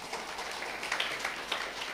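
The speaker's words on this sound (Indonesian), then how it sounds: "Berikan tepuk tangan buat Tuhan." Congregation clapping during a Sunday worship service at GBI Katharizo church, a dense, steady patter of many hands at moderate volume, with no speech over it.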